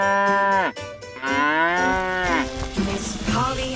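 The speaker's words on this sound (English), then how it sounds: "Cow." Cow mooing in a children's song, several long drawn-out moos with rising and falling pitch, loud and close, one after another with short breaks, no talk.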